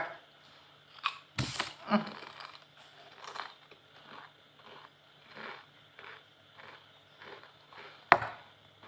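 Crispy fried potato chips from 7-Eleven being chewed close to the mic, a sharp crackle and bite followed by a run of rhythmic soft crunches, quiet between chews.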